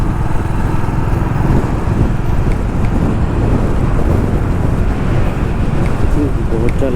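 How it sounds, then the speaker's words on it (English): Strong wind buffeting the microphone on a motorcycle ride through hill roads toward Munnar, a loud continuous low roar and rumble with gusty fluctuations dominating the whole stretch. "Oh, the wind is quite strong here."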